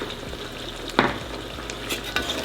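Chiles and potatoes fry in a pan with a steady close sizzle, broken by a few stirring scrapes and clinks of a utensil against the pan.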